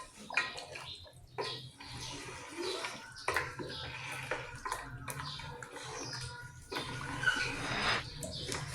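Mutton trotters (paya) with garam masala and black pepper are stirred in a pot, giving soft wet sloshing and scraping sounds in irregular strokes, fairly quiet and close, with no talking.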